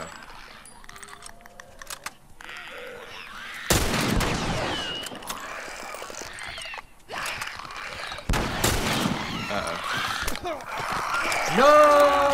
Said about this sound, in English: Let's put that for the hunting rifle so we can get some decent headshots off.